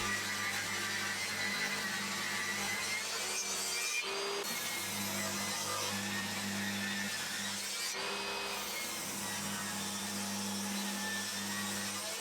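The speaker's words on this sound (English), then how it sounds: "So with the fence set to 12mm, I ripped the trim pieces one by one." A table saw rips 12mm wood trim pieces with its fence set to 12mm, giving a continuous loud whine and hum close by, with two brief dips where one piece ends and the next begins.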